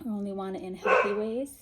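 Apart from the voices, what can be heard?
dog barking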